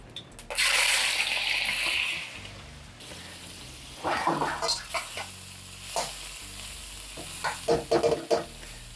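Shrimp hit a hot pan for fried rice and set off a loud, close sizzle, followed by bursts of stirring and scraping frying sounds.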